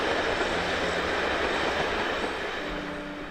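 A model railway train runs along a layout, giving a steady, close rolling rumble with a faint tonal hum that eases slightly toward the end.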